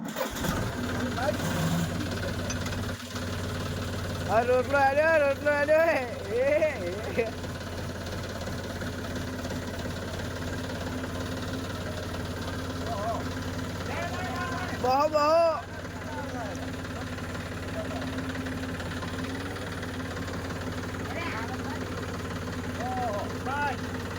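A farm tractor cranks and starts in two brief bursts, then settles into a steady mid-pitched idle that runs throughout, close by, while people talk nearby.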